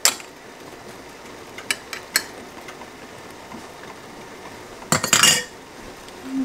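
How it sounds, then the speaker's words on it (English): Metal spoon tapping apples down into a glass jar for apple preserves, a few light clinks early, then a louder cluster of rapid taps near the end, close and alone. "Can use a spoon to kind of tap the apples down in."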